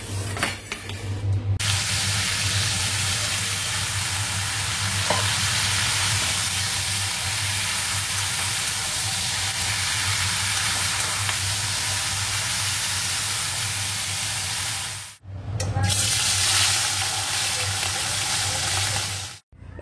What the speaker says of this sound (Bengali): তো সবার আগে এখন এই উচ্ছে ভাজাটা বসাবো।